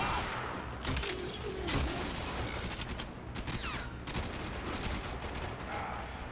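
Pistol fire in the co-op shooter Warframe comes as rapid, repeated sharp cracks over dense, busy game noise, loud and continuous for several seconds.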